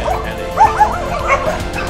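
A Phu Quoc dog yelps and whimpers in short, strained bursts while being vaccinated, close by, with a few high whines trailing between the cries.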